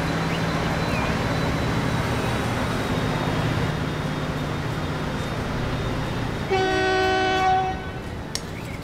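Train running on track in the Transport Fever video game: a continuous loud rumbling engine drone rolls on throughout, and near the end a sustained multi-tone horn blast sounds before the rumble continues.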